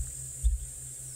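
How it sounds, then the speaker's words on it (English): Cicadas in the African bush on a lovely day give a steady, high, continuous buzz that runs unbroken through the whole moment, with a brief low thump near the middle. "And in the background we do hear some cicadas."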